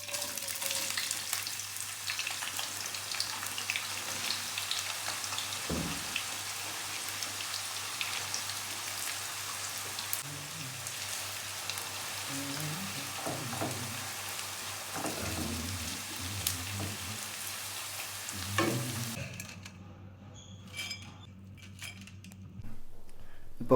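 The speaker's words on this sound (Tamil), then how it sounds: "ஆயில் சூடானதும் நம்ம இந்த ஆனியனை ஒரு 200 கிராம் அளவு ஆனியனை ஃபுல்லாக கோல்டன் கலரில் பொரிச்சு எடுத்துக்குவோம்" Sliced onions deep fry in hot oil for Thalassery biryani, giving a dense, continuous crackling sizzle close by with occasional stirring clatter, before the sizzle quietens toward the end; no talking.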